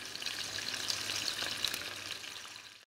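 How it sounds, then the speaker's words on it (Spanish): Six small green peppers fry in oil in a pan with a bright, steady sizzle and crackle and scattered pops, close up and with no talking. "Ahora me quedo friendo, salamos al gusto"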